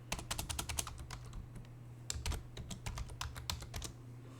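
Rapid clicking of computer keyboard keys as someone types a Linux command at a terminal, with irregular bursts of close keystrokes over a steady low hum and no talk.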